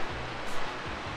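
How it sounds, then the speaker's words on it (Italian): Fukuroda waterfall in Ibaraki, Japan, pours with a steady, loud roar of rushing water, broad and continuous without a break. "siamo alla veduta della cascata"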